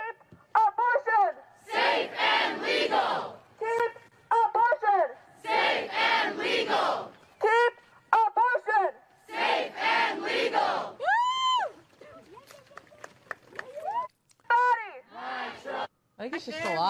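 Protesters outdoors shouting rhythmic chants in unison, loud bursts of massed voices alternating with short pauses, with some individual yells and whoops between the chants.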